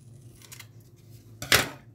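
Quick scissors trim of paper for a handmade mini-album, a few soft snips ending in one sharper cut near the close, heard alone without talking.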